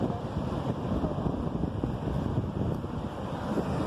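Ocean waves roll in at Mission Beach, California, mixed with strong gusty wind buffeting the microphone, a continuous low roar with no voices.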